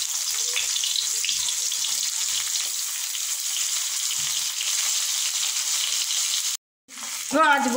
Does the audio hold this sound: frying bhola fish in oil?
yes